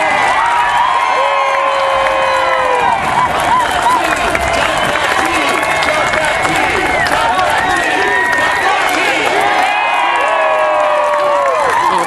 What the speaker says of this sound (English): Cheer them on and let them dump the tea.